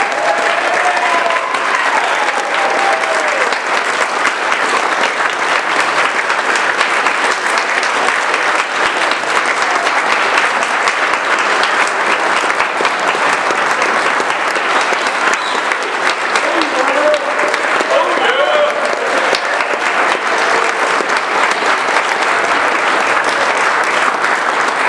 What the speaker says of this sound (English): Let's give our newest Eagle Scouts a round of applause